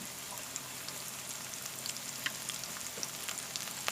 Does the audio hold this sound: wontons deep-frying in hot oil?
yes